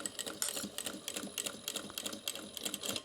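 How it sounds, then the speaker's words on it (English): A sewing machine top stitches connector tabs on a tote bag at a long stitch length, its rapid rhythmic needle clatter running steadily and fairly softly throughout. "I'm top stitching, so I've got my stitch length at around a 4 1/2"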